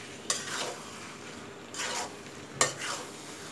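Garlic and mango pickle ingredients stirred in a pan, with a few sharp clicks of the spoon against the metal and soft scraping swishes in between, close and alone.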